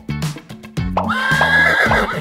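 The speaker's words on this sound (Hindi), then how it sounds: "निकी, देखो, ये शहजादी का घोड़ा है।" A horse whinnies loudly and close, a long rising-and-falling neigh with a few soft hoof clops underneath, at a children's game center.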